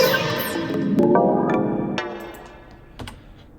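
Bass synth processed through spectral resonators, delay and two phasers in a bass music drop, with sweeping, shifting harmonic tones and sharp accents near one and two seconds, played alone.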